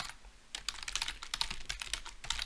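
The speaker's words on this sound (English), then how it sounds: "Typing is out of control today." Rapid typing on a computer keyboard, close and fairly quiet, with clustered key clicks in an irregular rhythm and no voices.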